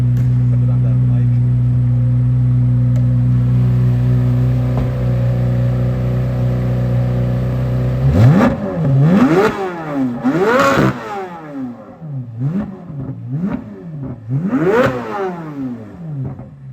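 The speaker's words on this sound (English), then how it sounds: "Do you guys want to hear it rev?" A Corvette Z06 engine idles with a steady low hum, then several sharp revs rise and fall in quick bursts, loud and close.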